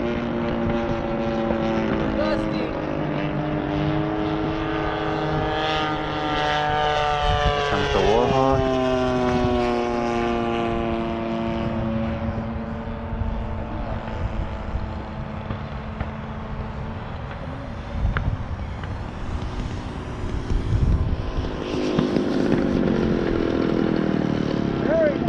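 A Havoc model aircraft flies in to land, its engine giving a whining tone that rises and falls as it passes and slows, while people talk nearby throughout.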